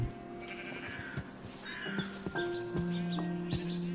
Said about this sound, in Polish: dużo tutaj jest owiec